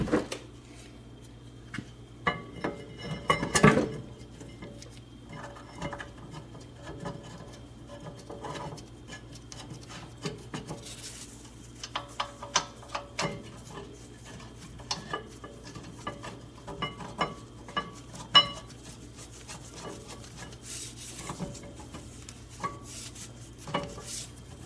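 Caliper bracket and brake caliper being refitted on a Toyota Sienna, with scattered metallic clinks, taps and clanks of parts and tools, one sharp loud clank early on, all close and without speech.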